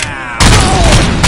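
Loud gunfire bursts in the RoboCop video game: a quieter lead-in, then a sudden heavy salvo of shots and booms that keeps rumbling densely, with a fresh blast right at the end.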